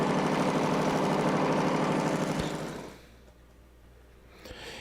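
A tractor engine running steadily close by with a low droning rumble, which then drops away sharply to a quieter background with a faint knock near the end.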